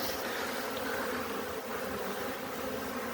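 Honeybees buzzing around hives at an apiary on a mild winter day, a steady dense drone of many insects close by, continuous and even throughout.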